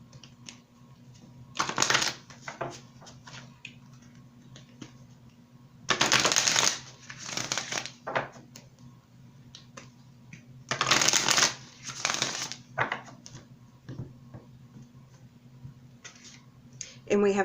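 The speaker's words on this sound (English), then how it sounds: "Let's go ahead and pull a oracle card." Oracle cards being shuffled in a few rustling, riffling bursts separated by quieter pauses, close and fairly loud over a low steady hum.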